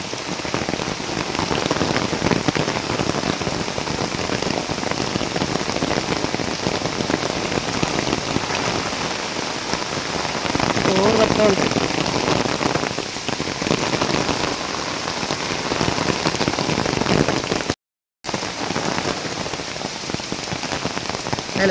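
Heavy rain pours steadily and loudly onto surfaces, a dense unbroken hiss with no voices, briefly cut out near the end.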